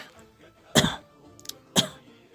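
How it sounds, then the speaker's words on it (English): Two short, mild coughs sound close and on their own, about a second apart, with quiet room tone in between. "Like this kind of cough"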